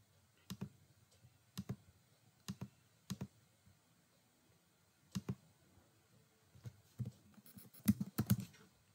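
Computer keyboard typing while writing a test bench for a floating point IP with an AXI Lite interface: short clusters of close key clicks spaced by pauses, with a denser burst near the end.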